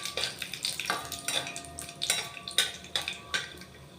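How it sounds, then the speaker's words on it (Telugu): Peanuts and fenugreek seeds roasting in a pan for an eggplant curry, stirred with a utensil, producing soft sizzling under a rhythmic series of close scraping strokes, about two per second. "ఇప్పుడు గుప్పెడు పల్లీలు, ఇవి కూడా కొంచెం వేగనిద్దాం."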